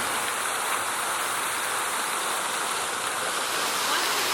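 A downtown light and water feature in Kingston, Ontario splashes and hisses continuously, a steady, fairly close wash of falling water with no voices.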